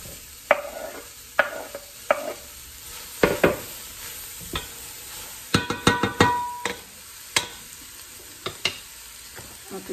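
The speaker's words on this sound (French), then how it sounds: "je vais baisser mon feu et je vais ajouter l'oignon et l'ail." Onion and garlic cook gently in a pot over lowered heat for a white leek soup, with a soft continuous sizzle broken by repeated sharp clinks and scrapes of stirring utensils against the pot.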